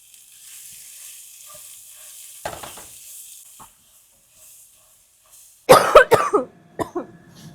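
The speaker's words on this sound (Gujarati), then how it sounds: "એટલે કેપ્સિકમ ને અનિયન નાખી દેવાના." Capsicum, onion and carrots go into a hot pan for Chinese noodles, a faint steady sizzle running underneath, then a loud burst of clattering stirring and scraping near the end, with a brief cough-like sound midway.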